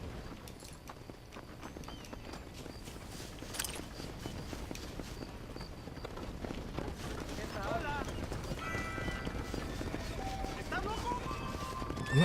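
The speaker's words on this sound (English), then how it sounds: "I'm not too sure why this horse is following me." Horse hooves clip-clop steadily in Red Dead Redemption as a horse follows along, a continuous rhythmic patter amid game ambience, with a voice talking over it.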